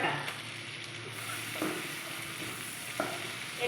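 Garlic and ginger paste fries in a pan with a steady close sizzle, broken by a few light scrapes of a spoon stirring through it.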